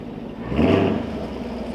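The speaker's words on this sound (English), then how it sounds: "I thought this Flowmaster one sounded good, but not very loud at idle" A Camaro SS 1LE with a Flowmaster exhaust idles, played back through a speaker, giving a steady low rumble that swells briefly near the middle.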